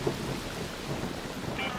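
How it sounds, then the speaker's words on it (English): Thunder rolls from lightning strikes during an electromagnetic storm in a video game, a low rumble under steady rain-like noise, with no voices. "Beware the lightning strikes if you're outdoors."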